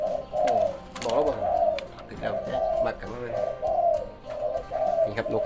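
A hybrid dove coos repeatedly in a steady, rhythmic series of low, rounded calls, close and clear, with faint background noise.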